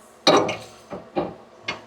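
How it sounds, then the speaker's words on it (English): A hammer taps a bolt into a suspension bracket hole while a Belltech lowering kit goes onto an F-150: one sharp metallic knock, then three lighter taps spaced across about two seconds, close and fairly loud. "Maybe need a little hammer."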